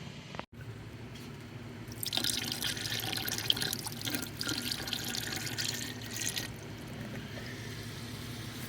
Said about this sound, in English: we're going to pour a 4-to-1 muriatic acid and water dilution into the cell